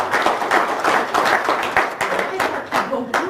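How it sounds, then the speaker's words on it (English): A seminar audience claps for itself in a small hall, giving a close, uneven burst of hand claps with a loose rhythm and several surges across its length; a voice may murmur faintly underneath. "give yourselves a round of applause"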